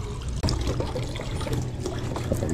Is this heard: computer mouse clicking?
no